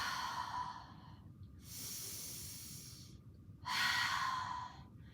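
Slow, deep breaths during a yoga session, audible inhales and exhales with soft hissing air, close and fairly quiet, alternating with short pauses.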